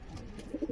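Domestic homing pigeons, including a black, a blue bar and a checkered bird, give a brief, soft, low coo nearby, with a few pulsing notes near the end.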